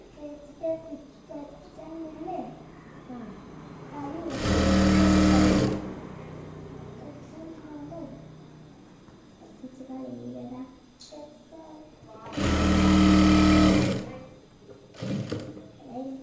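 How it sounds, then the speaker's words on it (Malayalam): Sewing machine stitching scrap fabric for a ladies' zippered handbag, two loud sustained bursts of running motor separated by quiet moments with soft handling noise, plus a brief third burst near the end. "അപ്പോൾ ഇതുപോലെ സ്ക്വയർ ആയിട്ട് അങ്ങോട്ട് സ്റ്റിച്ച് ചെയ്യാം."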